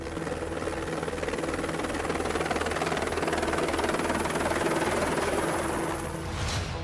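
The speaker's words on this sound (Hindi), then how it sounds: "कुछ इस तरीके से सेना के हेलीकॉप्टर के जरिए जंगल में लगी आग को बुझाने की कवायद चल रही है।" A steady, loud rotor and engine drone comes from a military helicopter fighting a forest fire in the Sariska jungle, holding continuous at close range for about seven seconds with no talking.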